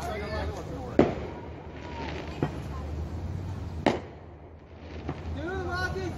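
Backyard Fourth of July fireworks being lit and set off, with a few sharp pops and bangs spaced a second or two apart over a steady low rumble, as people chatter excitedly nearby.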